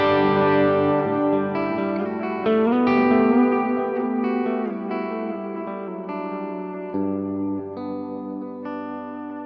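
Bass guitar tone processed with delay and reverb, a sustained low melodic line with notes blooming and trailing echoes, steady and moderately loud throughout with no talking.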